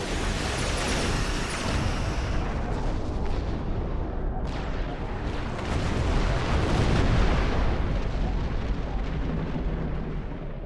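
Starships blowing up in a space battle in the video game Star Trek Online, with gravimetric torpedoes in use: a dense, continuous roar of rumbling blasts and booms that swells louder midway, with no talk.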